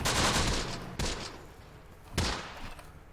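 Gunfire in the Close Combat war game during an assault on an Italian desert stronghold: a sustained roar of rifle and machine-gun fire, with sharp new bursts breaking in twice, loud and dense.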